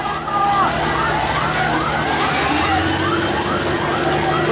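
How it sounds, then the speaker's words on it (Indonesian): A large house fire burns on a crowded street in Makassar, a steady broadband roar under loud wailing emergency sirens that sweep up and down throughout, with crowd voices mixed in. "Makin membesar apinya ini."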